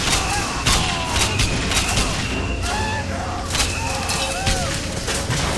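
Continuous gunfire and thudding impacts from combat in Bioshock Infinite, dense and steady at close range, with scattered whistling effects layered over the din.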